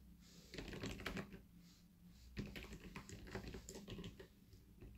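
Fingers type quickly on a computer keyboard while entering JavaScript code, a steady, close clatter of keystrokes with short pauses between bursts.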